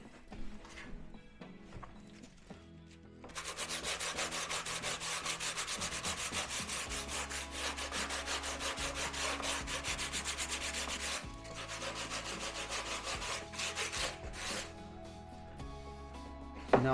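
Hand sanding of a custom carbon fibre side skirt for a Mazda MX-5 NC1 with 120 grit paper, a steady close rasping rub that swells into long continuous strokes under faint background music.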